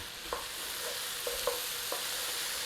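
Celery and carrots sauté in a pot with a steady background sizzle, while a spoon stirs them and scrapes the pan in a few brief, sharp strokes. Nobody speaks.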